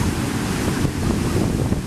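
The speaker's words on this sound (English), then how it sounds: "The water's meeting, colliding, and going in circles." Colliding ocean waves during Hurricane Sandy, a loud, continuous roar of churning surf mixed with heavy wind buffeting the microphone.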